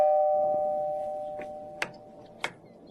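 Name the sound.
doorbell ringing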